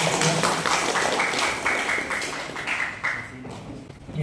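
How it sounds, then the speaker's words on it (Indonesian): An audience claps for a speaker at a public outreach session in Palembang, Indonesia, a steady patter of many hands that gradually thins out, with a faint voice underneath. "Kita berikan aplaus dulu kepada Bapak"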